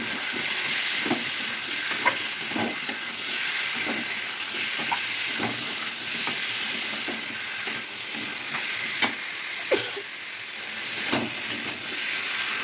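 Ridge gourd fries in a pan with tomato, a steady loud sizzle and hiss running throughout, broken by a handful of soft scraping stirs.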